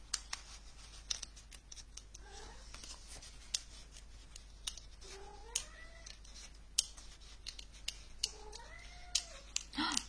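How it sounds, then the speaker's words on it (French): An unhappy cat meows and cries repeatedly in a quiet room, with three drawn-out wailing calls spaced across the stretch, mixed with sharp snipping clicks of scissors cutting paper for a card craft. "Je sais pas si vous entendez mon chat, elle n'est pas contente."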